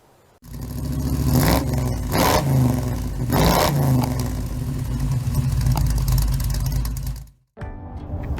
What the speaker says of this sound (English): we're going to jump in the truck for one last time, head over, pick up my new toy